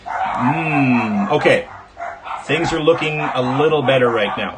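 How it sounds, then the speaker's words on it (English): Dogs bark off in the background of a card game, their intermittent yaps half buried under a man's close, continuous talk. "dogs barking in the background"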